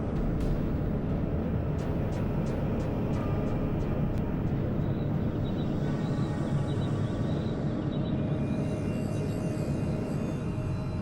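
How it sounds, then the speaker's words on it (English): A spacecraft afterburner in the space video game Freelancer gives a steady, heavy roar with a constant rumbling whoosh and a few faint high clicks near the start. "Afterburner."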